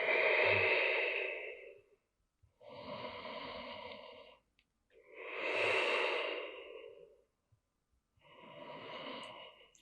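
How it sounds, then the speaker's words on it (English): Four slow, deep breaths are taken during a seated breathwork exercise, each a long airy inhale or exhale lasting about two seconds, close and clear, separated by brief pauses of near silence. "2 more big breaths here."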